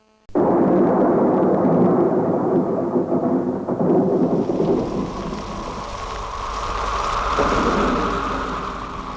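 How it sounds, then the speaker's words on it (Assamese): Heavy thunder rumbles loudly and continuously, its deep roll easing into the steady hiss of a downpour drumming on a tin roof. "ক'লা হৈ গৰ্জি গুমৰি থকা আকাশখন ভাগি পৰিল।"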